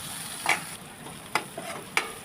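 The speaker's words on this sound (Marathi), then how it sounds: "असं कांदा परतून घ्यायचे" Onion is sautéed in oil under a quiet, steady sizzle, with three sharp spatula scrapes against the pan spaced unevenly across the moment and no speech.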